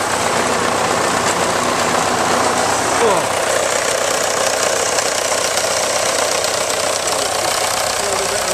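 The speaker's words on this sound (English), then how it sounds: "Have a little look around the engine, now it's warm." A loud, steady diesel engine of a Fordson Major tractor idling warm with a constant rattling knock, close by and unbroken throughout.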